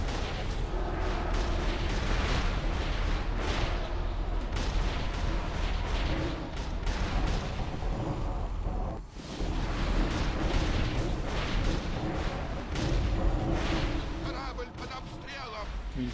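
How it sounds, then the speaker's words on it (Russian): Ship cannons fire during a World of Warcraft raid battle aboard an airship, a dense, continuous barrage of booms and blasts mixed with game combat noise, with players talking over it throughout. "Заклинателя сюда! Пусть заткнет эти пушки!"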